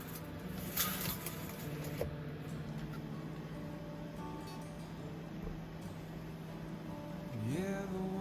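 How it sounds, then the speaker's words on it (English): Rain falls steadily on a small truck camper on a fall day in New England, making a soft continuous patter with a low steady hum beneath it and a brief rising tone near the end. "The rain has continued, and it's supposed to pick up pretty heavily here in a little bit."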